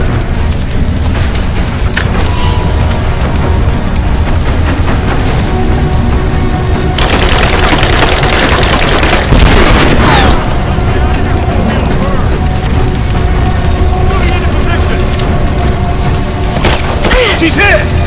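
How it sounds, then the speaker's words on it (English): A grenade blast in Rise of the Tomb Raider lands amid continuous gunfire in a village firefight, the explosion surging loudly around the middle under ongoing shots and debris crackle, with shouting voices mixed in. "Fire in the hole! Throwing a grenade!"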